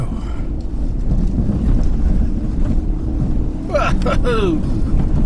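A truck drives hard through sand, its engine roaring steadily with loud wind buffeting the microphone, and a brief squeal near the end.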